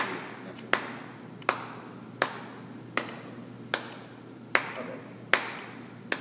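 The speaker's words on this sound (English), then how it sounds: "clap with the metronome." A single person claps in steady time with a slow adagio metronome at 72 beats per minute, eight sharp, evenly spaced claps over a faint room hum, with no talking.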